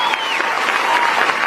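Loud, dense applause from a crowd welcoming the chairwoman, a steady wash of many hands clapping at close range for the whole moment, with no talk over it.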